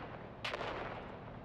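Grenade blasts in the video game Dune: Awakening, a sudden burst of bright crackling explosions about midway through, ringing out over a steady roar of ambient game noise with no talk.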